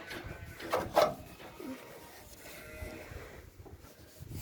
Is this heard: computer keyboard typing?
no